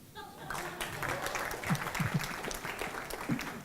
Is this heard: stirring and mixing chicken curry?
no